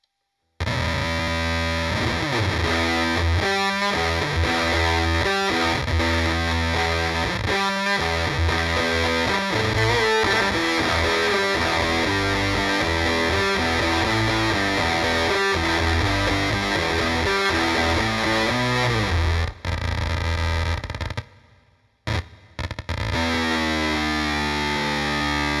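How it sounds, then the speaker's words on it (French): Electric guitar run through a Fuzz Factory fuzz pedal and a 6-band EQ plays a sustained, heavily fuzzed riff with dense distorted chords, loud and continuous, cutting out with sputtering gaps near the end. "c'est ma Fuzz Factory que j'utilise toujours avec un equalizer à mixeur à 6 bandes"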